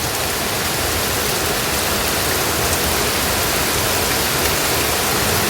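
Heavy rain pours onto a rooftop in Kolkata during the run-up to Durga Puja, a dense, steady hiss and patter that stays loud and even throughout, with no voices.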